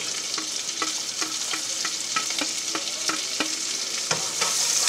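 Vegetables sizzle with cooked pork for fried rice in a hot pan, a loud close steady hiss punctuated by a regular series of sharp stirring scrapes and clacks, with no talking.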